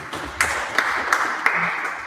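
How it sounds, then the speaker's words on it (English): An audience at a headteachers' gathering at a girls' secondary school in Kisoro District, Uganda, claps steadily, with a few sharp louder claps standing out from the sustained applause. "A clap for them."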